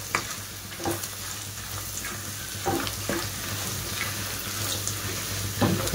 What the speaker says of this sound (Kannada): ಅರಿಶಿನ ಹಾಕಿ ಚೆನ್ನಾಗಿ ಮಿಕ್ಸ್ ಮಾಡ್ಕೊಳ್ಳಿ